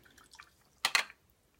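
A watercolor brush is rinsed in a cup of water while painting a plumeria flower, making a brief, faint swish and drip. Two quick splashy pulses rise from near silence and fade almost at once.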